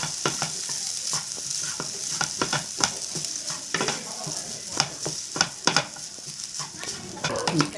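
Cooked rice is stirred in an oiled pan with onions for spicy egg rice, with repeated scraping strokes and spatula clinks over a constant sizzle.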